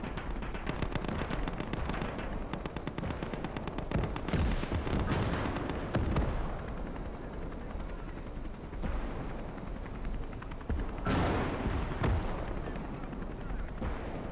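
Video game battle on a trench line with tanks, including a T-80, and infantry: dense, continuous gunfire and explosions, with loud heavy blasts as a tank is hit, all close and relentless.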